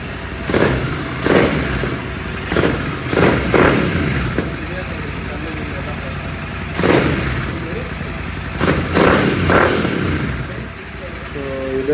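A motorcycle fitted with a new aftermarket exhaust, dB killer in place, starts and idles, then revs in repeated loud throttle bursts that rise and fall across the stretch, close to the listener.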